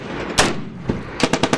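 Taliban gunfire from mountain slopes cracks out in sharp bursts: one loud shot, a softer one, then a quick cluster of four or five rapid reports at close-to-mid range, with no talking.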